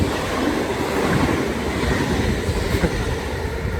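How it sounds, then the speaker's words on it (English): A double-decker train in the Netherlands rushes past close by, a broad steady roar of rolling wheels and wind that holds for several seconds. "As you would have seen just then as well, the Netherlands also has double-decker trains"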